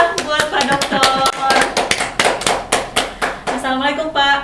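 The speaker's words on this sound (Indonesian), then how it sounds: "Beri tepuk tangan yang meriah buat Pak Dokter." Audience applause for a guest on a podcast, many hands clapping in a burst of uneven bright claps that runs for about four seconds, steady in loudness with a brief voice toward the end.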